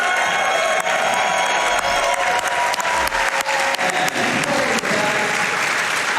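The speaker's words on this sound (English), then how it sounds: "Give me a big round of applause" A live audience at a speedrun showcase event with TASBot breaks into a big round of applause, dense steady clapping filling the room throughout with a few scattered cheers.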